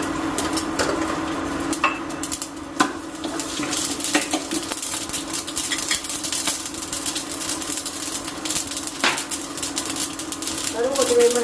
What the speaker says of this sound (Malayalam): കടുക് പൊട്ടി കഴിയുമ്പോൾ